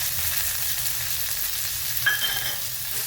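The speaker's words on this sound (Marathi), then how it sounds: "टोमॅटोला पण चांगलं परतून घेऊ।" Chopped tomatoes and onions frying in a pan for a quick pasta dish, giving a continuous close hiss of sizzling with faint stirring, steady and alone without voices.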